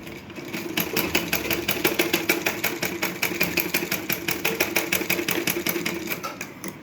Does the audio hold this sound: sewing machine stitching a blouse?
yes